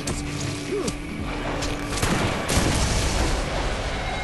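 Weapon fire in the Borderlands video game: a dense run of shots and booms that overlaps steady game noise, with a few sharper blasts partway through and no voices.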